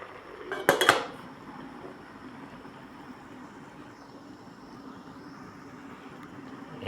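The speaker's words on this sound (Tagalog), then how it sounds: "takpan muna natin mga idol." A lid is set onto a cooking pot of pumpkin and mustard leaves simmering in coconut milk, making one short metallic clatter near the start. Afterward only a quiet steady background hum remains.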